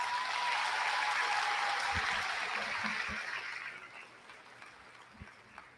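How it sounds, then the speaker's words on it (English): Audience applause for eighth grade graduates at a middle school graduation ceremony, a dense wash of clapping that holds steady for a few seconds, then fades out with a few scattered late claps. "Let's give our graduates a round of applause."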